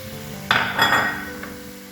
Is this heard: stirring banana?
yes